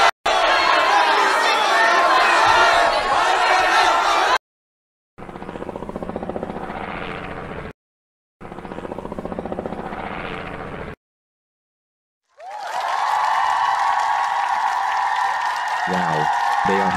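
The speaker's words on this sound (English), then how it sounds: "They are cheering." An angry crowd roars and cheers in loud sustained bursts broken by short silences, with a steady mechanical drone under the last stretch.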